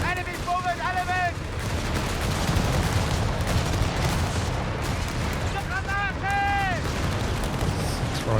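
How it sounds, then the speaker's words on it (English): Grenade blasts and gunfire in a Company of Heroes 3 2v2 battle, dense overlapping rumbling explosions and shots, with game voice lines calling out at the start and near the end. "Throwing out grenades there."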